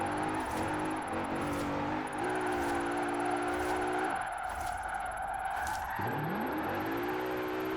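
A Mercedes AMG GT in Forza Horizon 4 revs hard and skids through a smoky drift, engine note rising and dropping in surges over steady tyre roar, loud and continuous.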